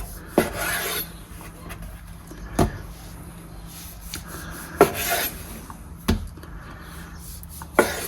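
A knife cuts a ball of tortilla dough into four pieces, giving four or five separate sharp taps against the board at intervals, with soft scraping and rubbing in between and no talk.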